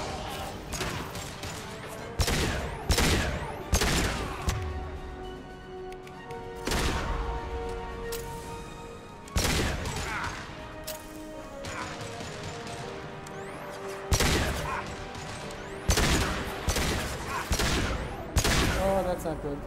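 Gunfire from a gun in the video game Mass Effect 2, loud bursts and single shots recurring irregularly over a steady game soundtrack and ambience, with long pauses between volleys.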